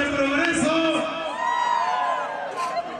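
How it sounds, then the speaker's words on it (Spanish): A crowd of men at a dance shouting and whooping together, a loud, sustained mass of raised voices with wavering yells rising over one another, close and continuous. "El grito de los borrachos del Progreso."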